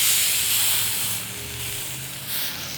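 Beef searing in a hot pan on a grill set to 7, giving a strong, steady, close hiss that swells and eases slightly.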